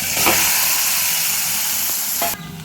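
Small marinated fish go into hot oil for a curry, setting off a loud, dense hissing sizzle that holds steady and then drops off abruptly near the end.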